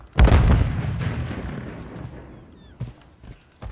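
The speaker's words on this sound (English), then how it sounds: "Stun grenade out!" A stun grenade detonates in the video game Warzone, a loud close boom at the start with a rumbling tail that fades over a few seconds, followed by a couple of softer pops and thuds.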